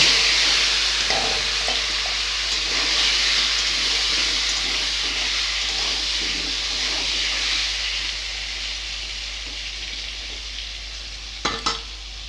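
Pieces of taro (mankochu) seasoned with salt and turmeric fry in hot oil, giving a steady, loud, close sizzle with occasional stirring taps, continuous throughout and briefly clattering near the end.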